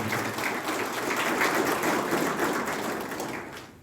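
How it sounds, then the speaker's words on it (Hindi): An audience at a marriage preparation class claps in loud, steady applause of thanks that carries for a few seconds before thinning out at the end. "जोरदार तालियों के साथ उनका धन्यवाद करें।"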